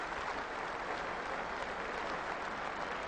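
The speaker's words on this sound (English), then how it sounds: "who was given a wonderful ovation by this big crowd at Lords" A big crowd at Lord's cricket ground gives a sustained ovation, dense continuous applause and cheering that fills the whole stretch at steady loudness.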